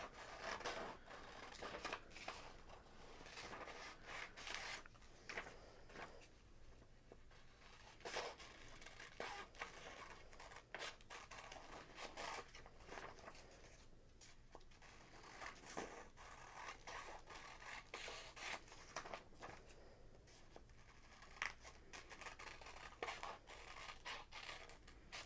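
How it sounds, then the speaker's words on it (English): Scissors snipping out small paper dresses for a glue book, a steady run of soft crisp cuts and paper rustles close up, with no talking. "I'm going to cut out these little dresses."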